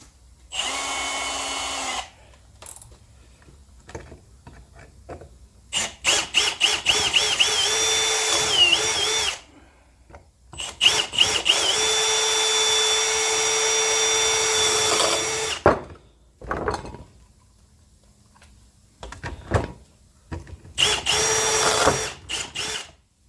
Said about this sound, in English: try to find the right drill bit and blow them out